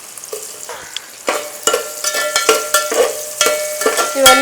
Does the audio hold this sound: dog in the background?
no